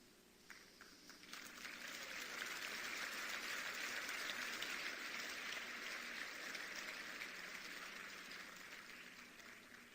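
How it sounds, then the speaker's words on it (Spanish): Applause from a seated audience at a motivational talk, clapping swelling in after a second and holding steady as a dense wash before tapering slightly, heard at moderate distance. "Ese aplauso es para Borges."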